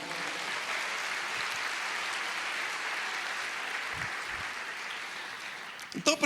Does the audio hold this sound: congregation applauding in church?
yes